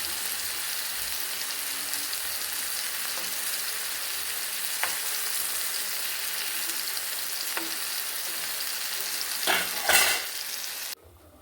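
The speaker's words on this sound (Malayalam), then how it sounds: "ചൂടായ പാനിൽ എണ്ണ തൂവിയിട്ട് അതിന് മുകളിൽ നിരത്തി വെച്ചിരിക്കുകയാണേ. ചെറിയ തീയിൽ വേവിച്ചെടുക്കാം." Tandoori chicken pieces fry in an oiled pan over low heat, giving a steady, close hiss of sizzling with a few sharp pops and brief scraping near the end.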